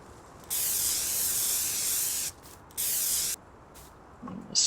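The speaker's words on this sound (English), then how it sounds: "The spray paint's not working very well." Spray paint hisses from a can in Farming Simulator 19, two steady bursts, one about two seconds long and a shorter one after a pause, loud and close with no talk.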